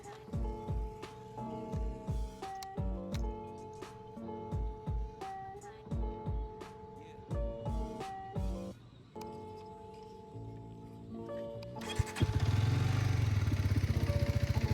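A 250cc Hero Xtreme 250R motorcycle engine starts suddenly near the end and runs loud and close, after a long stretch of rhythmic music with no engine.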